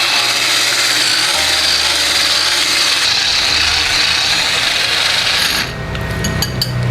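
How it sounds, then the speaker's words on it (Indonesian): Wireless three-speed hand mixer beating batter for a cake, a loud continuous close-up whirring buzz that holds steady throughout and shifts in tone near the end, with no talking. "Ini namanya hand mixer wireless."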